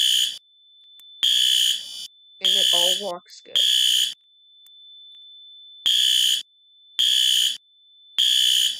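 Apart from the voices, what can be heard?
fire alarm sounding in Roblox Studio video game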